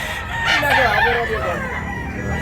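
A rooster crows loud and near at a chicken market in Tabunok, Cebu, a sustained cock-a-doodle-doo rising and falling over clucking hens and low background chatter.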